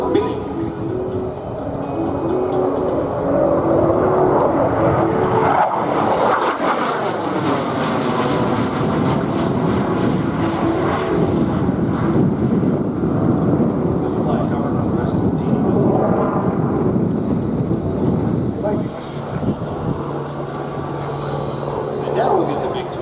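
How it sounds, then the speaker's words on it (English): A MiG-29 Fulcrum B fighter with Klimov engines makes a smoky arrival flypast at EAA AirVenture Oshkosh 2022, a loud roaring jet pass with a sweeping Doppler shift midway, sustained and heavy, with an announcer talking over it. "Flies the power of those Klimov engines from the right. The MiG-29 Fulcrum B."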